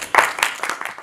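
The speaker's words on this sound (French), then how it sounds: "Joël de Ronet, je vous demande de l'applaudir" Applause from a conference audience greeting a speaker at an annual insurance-sector forum, a short burst of scattered clapping that starts abruptly and thins out quickly.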